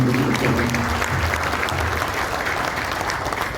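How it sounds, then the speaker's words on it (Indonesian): Steady crowd applause at a company union music event in Indonesia fills the whole stretch, dense and sustained, with a faint murmur of voices underneath. "Tepuk tangan dan aplaus untuk ketua panitia."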